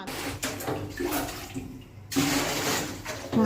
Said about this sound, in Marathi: पाण्याचा आवाज येतोय.